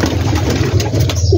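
Pigeons cooing in rooftop cages at a large pigeon-keeping setup in Gujranwala: close, soft repeated coos over a steady background hum, nothing else prominent.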